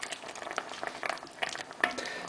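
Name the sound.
chilli con carne simmering in a pan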